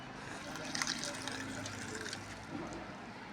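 Water from a glass is poured into a homemade cleaning mixture, making a continuous splashing trickle that stays steady for a few seconds, fairly close and moderately loud.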